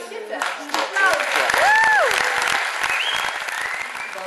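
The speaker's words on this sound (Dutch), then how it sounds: "Applaus." Applause fills a room after a brand launch presentation, steady and close, with a voice speaking over the clapping and a brief whistle-like tone rising above it.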